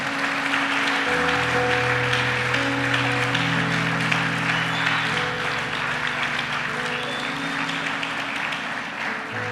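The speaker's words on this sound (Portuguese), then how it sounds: "Você pode aplaudir a Jesus por isso ou não" Church congregation applauding during an Easter service sermon, a steady, dense wash of clapping that fills the space throughout, with sustained organ or keyboard tones held underneath.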